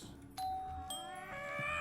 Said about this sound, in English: Doorbells.